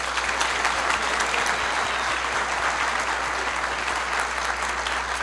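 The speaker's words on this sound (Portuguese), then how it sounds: "Uma salva de palmas para ela ter aberto a boca." A seminar audience breaks into loud, dense, continuous applause for a participant, steady throughout, with a low electrical hum from the sound system beneath it.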